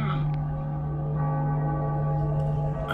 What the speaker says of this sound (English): Bells were cracked too. Gave off this eerie atonal clang.